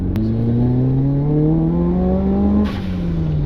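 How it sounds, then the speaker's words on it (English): Mitsubishi Evo engine pulling hard under acceleration, a loud steady rising drone with turbo whoosh climbing in pitch for over two seconds, then a sharp release as the revs drop and the note falls away. "that turbo noise just encourages you"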